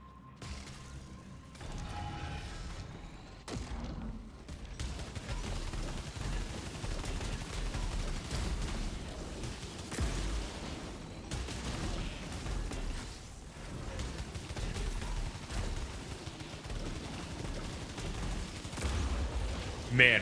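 Enemy turrets fire in Returnal, rapid bursts of shots and mechanical clatter over a busy, dense sci-fi game soundscape, rather faint overall, with a voice speaking in between.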